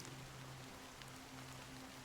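Steady rain falls in the video game Honkai: Star Rail, a soft, even hiss of drops with a faint low hum beneath, continuous and alone with no voices.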